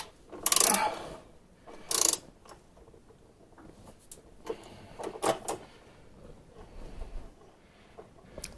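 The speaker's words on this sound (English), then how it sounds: "I'm going to switch to a long 3/8 ratchet with an extension to give me the leverage that I'm going to need to break this bolt loose" A long 3/8-inch ratchet with an extension works a bolt loose on a Maytag Bravos XL washer, giving two sharp metallic clacks early on, then softer scattered ratcheting clicks and taps, fairly quiet.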